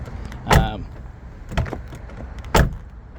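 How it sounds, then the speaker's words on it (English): A 2022 Jeep Gladiator Rubicon is locked with its keyless entry button, making three short, evenly spaced mechanical clunks about a second apart, close by with a quiet background between them. "so you can push the little button that's going to lock the car"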